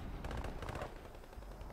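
Rapid bursts of gunfire in the video game Warzone 3, a quick run of sharp shots close together over about a second, fairly faint against a low background rumble.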